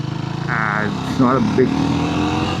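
The 400cc engine of a Triumph Tracker 400 motorcycle hums steadily at riding speed, with someone talking over it throughout.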